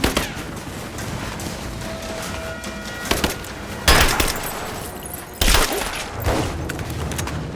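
Gunfire in the video game Tomb Raider: a running exchange of shots with several sharp, loud bursts standing out over a steady background of battle noise.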